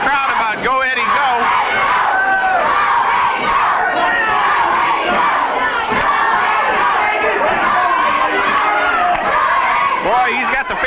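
A pro wrestling arena crowd from 1987 shouts and jeers in an angry, continuous roar that stays loud for the whole stretch, while a commentator's voice is faintly mixed in.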